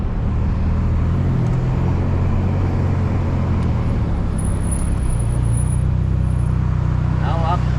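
A Ferrari Portofino turbo engine drones steadily while driving, heard from inside the car with road noise and voices talking over it throughout.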